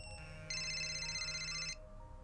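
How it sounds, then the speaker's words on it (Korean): A telephone rings in a quiet morning room. One short electronic ring burst sounds alone, fairly faint, and then stops. "아침의 정적을 깨며 전화벨이 크게 울린다"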